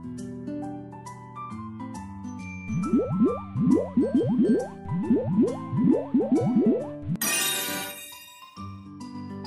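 Cartoon soap rubbed on a face, rendered as a rapid series of squishy, bubbly rising squeaks over light music, about a dozen in quick rhythm, followed by a bright sparkling tinkle.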